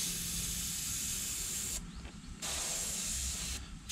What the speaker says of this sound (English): And I got my airbrush, I got my compressor set on about 20,